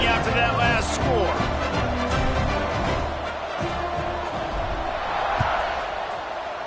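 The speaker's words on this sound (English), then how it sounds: "this crowd is buzzing after that last score" A stadium crowd keeps up a restless buzz right after a score and extra point, while a play-by-play commentator talks over it. Occasional thuds and whoops rise out of the steady murmur.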